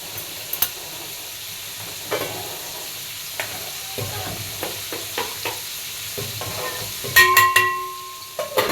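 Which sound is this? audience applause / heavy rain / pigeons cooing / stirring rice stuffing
stirring rice stuffing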